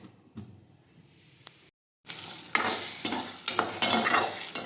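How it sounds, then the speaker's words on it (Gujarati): Green urad bean curry sautés in a pan: soft sizzling and stirring, a short silent gap, then louder frying with repeated scraping strokes, close up. "હવે સાતળી લેશું. હવે સડવા દઈશું આપણે."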